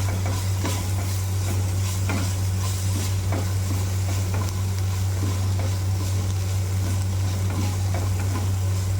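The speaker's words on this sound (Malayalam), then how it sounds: "ഉള്ളി വഴന്നിട്ടുണ്ട്. അപ്പം നമുക്ക് ഈ മുളകും കറിവേപ്പിലയും അതിനകത്തിടാം." Green chilies and curry leaves sizzle loudly in sautéed onions for bitter gourd mezhukupiratti, a steady close frying hiss with stirring scrapes throughout and a low hum beneath.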